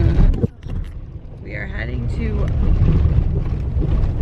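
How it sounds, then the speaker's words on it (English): An RV rolls along a gravel road in South Dakota, giving a steady low engine and road rumble with some wind buffeting, while people talk over it throughout. "we're on a gravel road"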